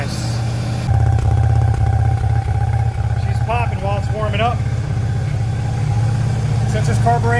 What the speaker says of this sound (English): She's popping while it's warming up.